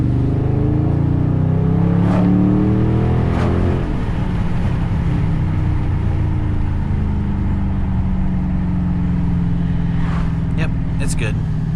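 A 2021 Dodge Charger Scat Pack Widebody, heard through an open window in traffic, gives a deep, loud engine rev that swells and fades, followed by a steady rumble and a few sharp clicks.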